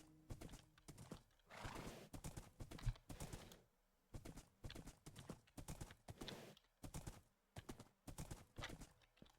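Minecraft horse hooves clip-clop in quick, uneven bursts, broken by repeated whinnying neighs, fairly close and loud with short pauses between.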